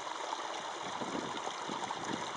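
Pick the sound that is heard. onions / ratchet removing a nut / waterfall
waterfall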